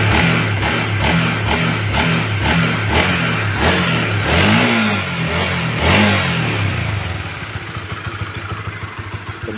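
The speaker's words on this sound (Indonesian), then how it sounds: "Jadi respon tarikan gas dengan respon mesin sudah seirama, tidak ada delay atau tidak ada telat." A Honda CB150 fuel-injected motorcycle engine is revved after a service, giving a run of quick regular throttle blips with rising and falling pitch. Then it settles into a lower, rougher idle, loud and close with no talk.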